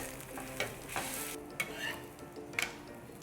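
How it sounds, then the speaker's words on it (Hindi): A fresh paratha cooks in ghee on a hot tawa, giving a soft, steady sizzle with a few light taps and scrapes as it is pressed gently, with no talking. "अब दोबारा से तवे पर लगाएंगे हम घी और इस पे जाएगा एक फ्रेश पराठा"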